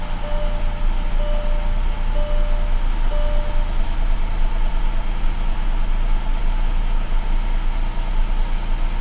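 A Mercedes S600 engine idling after new spark plugs and coils, a steady low rumble close by with repeated short warning chimes early on, no talking.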